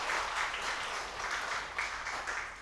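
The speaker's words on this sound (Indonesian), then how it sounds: "Mari kita berikan aplaus untuk mereka berdua." Wedding guests at a church wedding sacrament applaud the newlyweds in a soft, sustained patter of clapping that swells in small waves and sounds somewhat distant.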